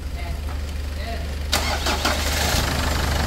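A Ford Everest engine, one with a vibration fault, cranks and catches at about the midpoint, then settles into a steady, slightly rough idle, close by. Before the start there is only a low hum.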